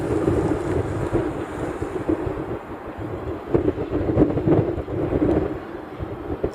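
Strong wind buffets the microphone at an outdoor plane-spotting spot in Honolulu, a steady low roar with gusty swells across several seconds and no voices.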